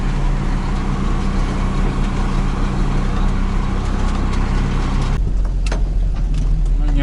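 A vehicle drives steadily along a rutted forest track, its engine a continuous rumbling drone that runs nearly unchanged throughout, with a few faint knocks near the end.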